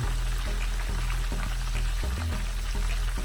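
Scotch egg wrapped in turkey sausage sizzling in a shallow pan of oil, a steady close bubbling and crackle with low rumble, no talk.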